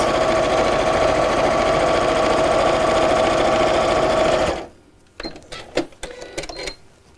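A sewing machine runs loud and close with a fast, steady mechanical whirr as it stitches a small straight seam down a fabric crease at a 2.2 stitch length, then stops abruptly, followed by a few clicks and handling sounds.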